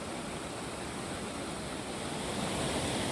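Water rushes steadily somewhere below at an old industrial site, a constant broadband roar with no breaks and no talking.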